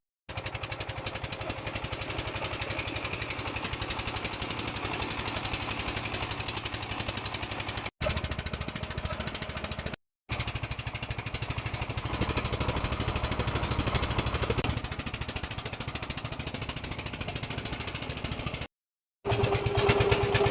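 A large boat's engine runs steadily with a continuous droning hum, loud and close, lasting throughout with a few brief dropouts.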